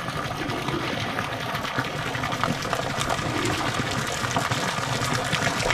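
Strong, clear waterfall water pours steadily from a 3/4-inch hose, a loud continuous rushing and splashing gush that holds even from start to finish.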